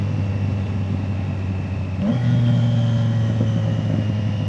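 A car engine holds a steady drone, then revs up with a sudden jump in pitch, droning on at a higher, louder pitch; any exhaust pops are faint among the engine noise.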